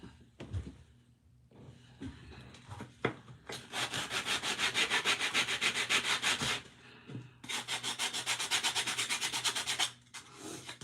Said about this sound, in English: All right, I'm going to sand it.